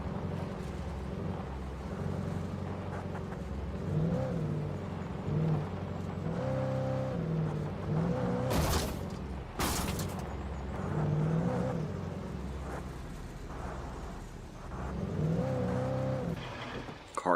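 A car engine hums and revs in the video game Alan Wake, a steady close drone with rising and falling pitch as it speeds up and slows, broken by two sharp noisy bursts midway.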